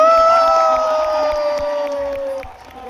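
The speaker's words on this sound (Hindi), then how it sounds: "मैं पहले तो चाहूंगा एक बार जोरदार तालियां हो जाए।" A lively audience at a cricket interview event on a university campus cheers and applauds together, with whoops and shouts over a steady roar of clapping that fades slightly toward the end.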